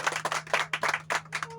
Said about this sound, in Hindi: तालियों से भाई स्वागत कीजिए।